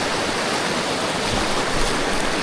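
Fast, deep stream rushing in a steady, loud broadband roar, close by at a fell crossing in Buttermere, with no voices.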